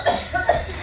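A person coughs a few times in quick bursts, fairly close, with short gaps between the coughs and some faint background murmur.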